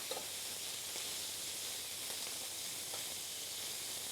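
Peppers sizzle steadily in a hot pan, a constant close hiss of frying with faint stirring ticks underneath.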